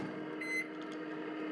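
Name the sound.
microwave oven running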